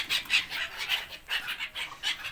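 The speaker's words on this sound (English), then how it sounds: "You see the blackbirds?" Blackbirds chirp and call in a street, a quick series of short, bright, fairly faint calls repeating in an uneven rhythm.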